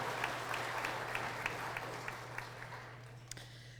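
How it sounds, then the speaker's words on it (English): An audience at the Colorado Book Awards claps, with crisp individual hand claps that thin out and fade toward the end. "So some applause for them,"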